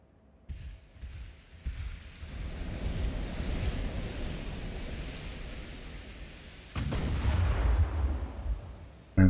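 Heavy 8-inch naval guns of a battleship fire in Ultimate Admiral: Dreadnoughts during a fight against three heavy cruisers, low booming blasts rolling over a constant sea-and-wind rumble, with a sharper loud report near the end.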